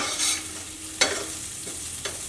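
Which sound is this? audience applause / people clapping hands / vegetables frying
vegetables frying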